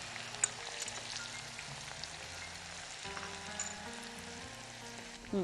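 Onion sizzles in hot oil with a steady crackling hiss, fairly quiet, with a faint low hum underneath.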